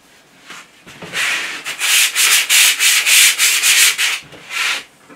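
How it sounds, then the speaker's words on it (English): Wet and dry abrasive paper rubbed by hand over the metal angles of a BM16 sliding table, a run of loud, steady back-and-forth strokes of rasping friction, close up with no voices. "Getting a little bit of wet and dry. And I'll just clean up onto the actual angles themselves."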